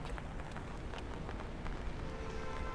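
Rain falls at night over the Gardens by the Bay skyway in Singapore, a faint, steady patter of drops on surfaces with scattered sharper ticks.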